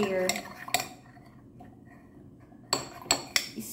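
A metal spoon clinks against a glass or mug while honey is stirred into a drink, giving a few sharp taps near the start and a quick cluster of clinks at the end, with a quiet pause between. No voices are heard.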